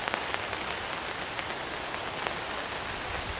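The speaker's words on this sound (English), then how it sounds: "You can hear the sounds of rain." Steady rain in Chelsea, Alabama, pattering close by as a dense, continuous hiss with scattered sharper drops, alone with no voices.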